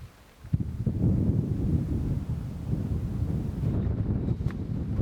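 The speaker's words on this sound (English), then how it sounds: "Jesus, that wind is blowing." Strong wind buffeting a microphone at a coastal lookout in Australia, a loud, steady low rumble that starts after a brief quiet moment and gusts on without any voices.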